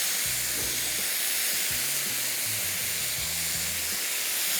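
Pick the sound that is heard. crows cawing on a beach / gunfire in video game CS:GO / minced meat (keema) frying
minced meat (keema) frying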